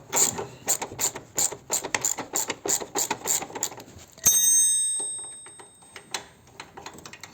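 A ratchet driving a T45 bit clicks rapidly in about a dozen bursts as a nut comes off a Harley Davidson Touring motorcycle, close and distinct, followed by a sharp metallic clank and quieter handling noises.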